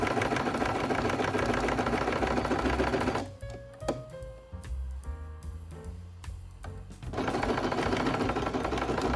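A sewing machine stitches around a marked rectangle on a quilted tote bag pocket, its fast steady mechanical chatter loud and continuous, breaking into a brief quieter stretch of small clicks and handling sounds midway before running again.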